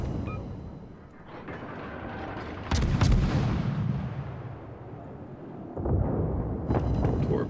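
Heavy naval gunfire from an Italian tier-6 destroyer in World of Warships, with loud booming salvos and rolling explosions over a constant battle rumble, a sharp blast at about three seconds and another volley near the end.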